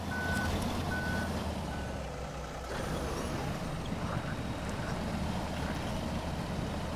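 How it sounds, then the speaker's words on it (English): A Padera STD-4 truck in SnowRunner runs its winch while accelerating, the engine droning low and steady under repeated reversing beeps and a brief air-brake hiss, all moderately quiet. "we are winching and accelerating at the same time"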